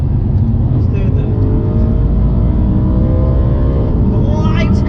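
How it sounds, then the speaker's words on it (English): A 420-horsepower BMW M3 engine winds up under load, a loud steady drone with rising harmonics close to the cabin, continuing without a break throughout. "I really like the fact that you can wind it up, wind the engine up"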